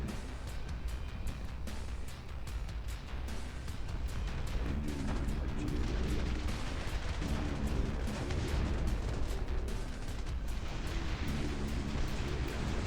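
Gunfire and explosions from troops under attack in the real-time strategy game Dust Front RTS, a dense, continuous barrage of shots and booms at steady loudness throughout.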